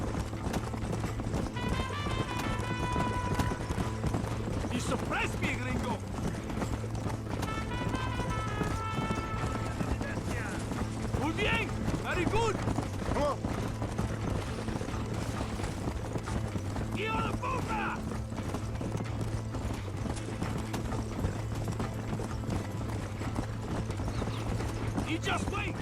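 Horses gallop in a race in the video game Red Dead Redemption, with a steady rhythmic clip-clop of hooves and occasional whinnies. Game music and spoken dialogue run over the hoofbeats.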